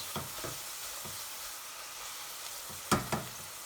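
Onions cook in a covered pot for chicken madras, giving a faint, steady low sizzle with a few soft knocks and scrapes, one louder clatter near the end, and no voices.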